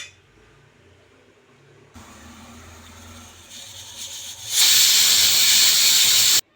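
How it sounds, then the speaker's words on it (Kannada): A pressure cooker making pulao vents steam through its whistle, building from a soft hiss into a loud, forceful blast that cuts off abruptly. "ಕುಕ್ಕರ್ ಲಿಡ್ನ ಕ್ಲೋಸ್ ಮಾಡಿ ಎರಡು ವಿಷಲ್ ತೆಗೆದ್ರೆ ಆಯಿತು"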